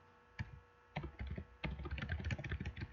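An address typed on a computer keyboard during company registration data entry, heard as a rapid run of close, crisp key taps that grows busier toward the end, with no talking.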